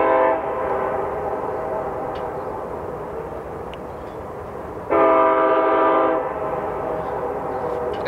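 A loud, steady train rumble in North Idaho with a long, blaring horn blast near the middle, the horn's harmonic tone cutting over the rolling rail noise for about a second.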